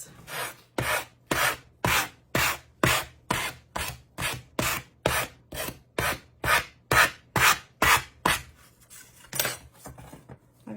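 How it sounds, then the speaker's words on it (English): Rhythmic back-and-forth sanding strokes rub away excess decoupage medium from a tissue-paper-decorated wooden piece, about twenty steady close passes with a brief pause near the end, no voices. "let's sand off any excess"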